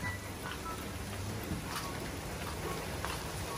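Rain falls steadily outdoors, a faint, even hiss with light patter that continues without pause.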